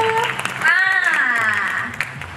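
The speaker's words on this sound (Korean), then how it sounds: "So, are you all happy too? Let us know by clapping!" Concert crowd clapping at a K-pop show: broad, continuous applause from a large audience, with an amplified voice speaking or singing over it on stage.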